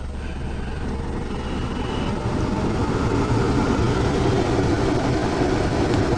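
A car engine runs steadily after its battery was revived with a Maypole 8A electronic smart charger, a low, even rumble that holds at a constant loud level throughout with no voices.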